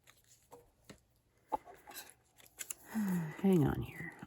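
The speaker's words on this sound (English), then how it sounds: "I am going to cut this out" Scissors snipping through paper to cut out printed words for a junk journal page, a few sharp close snips spread out, ending in a louder crunchy cutting burst, with a voice talking softly nearby.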